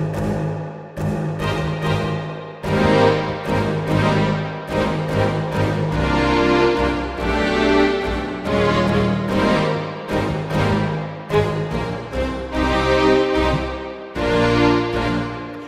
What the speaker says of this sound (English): So let's just give it a whole lot of reverb.